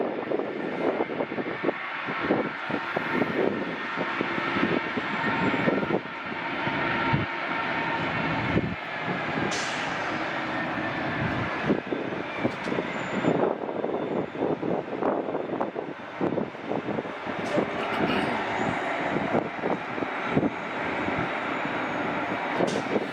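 A 25-year-old Delta Boeing 767-300 jet taking the runway at LAX gives a continuous broad rumble with a rough, fluttering texture, loud and sustained throughout with no talk.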